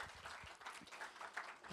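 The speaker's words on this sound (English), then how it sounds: "Give her a round of applause, please." An audience at a talk on creating products that feel like magic gives a round of applause, a soft, dense patter of many hands clapping, steady and somewhat distant, with faint voices mixed in.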